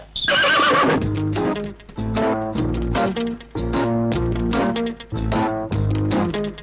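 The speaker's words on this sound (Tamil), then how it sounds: "இந்த குதிரை குறுக்க நிக்குது, எனக்கு பயமா இருக்கு" A horse gives a loud, close whinny at the start, followed by a series of repeated neighs, with faint clip-clop of hooves underneath.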